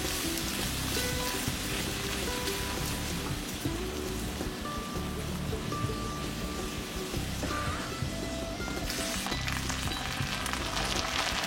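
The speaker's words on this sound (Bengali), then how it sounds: "মাঝারি আঁচে ঢাকা দিয়ে 2 মিনিট ভাজবো। নারকেল কোড়া দিচ্ছি।" Grated coconut frying in oil in a covered pan over medium heat, giving a steady, soft crackling sizzle like light rain that runs continuously without talk.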